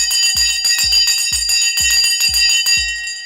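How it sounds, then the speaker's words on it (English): The stock market opening bell rings in a rapid, evenly spaced series of about seven bright metallic strikes, loud and close, with each strike decaying into the next and no one speaking. "The bell has now gone and we are off into the market"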